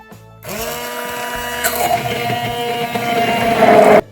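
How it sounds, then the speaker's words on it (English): A blender running on low speed, mashing black beans and banana with milk: a steady close motor whine that kicks in abruptly, strains slightly under the load, then rises in pitch near the end before cutting off. "use low speed to smash black bean and banana with some milk in there"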